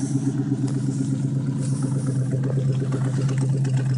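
An AMC Rambler Hornet car engine idles close by with a steady, low, pulsing rumble and even rhythm throughout, with no voices over it.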